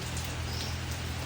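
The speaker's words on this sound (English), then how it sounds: "It's been raining for an hour and a half." Steady rain falls in Samchuk, a dense, even hiss of drops with no break, moderately loud and close, with no voices.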